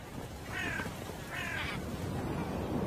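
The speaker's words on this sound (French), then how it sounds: "il est constamment accompagné d'un groupe de corbeaux." A group of crows caws outdoors, two harsh calls about a second apart at moderate distance over a steady background hiss.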